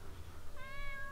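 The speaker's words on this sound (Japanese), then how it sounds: "今の猫の声なんなん？" Cat meowing in a Japanese horror video game, a single short rising meow at mid-distance over a quiet low ambient game hum.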